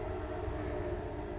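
A train rolls along nearby railroad tracks, a steady low rumble with a sustained tonal hum, continuous and fairly loud throughout without speech.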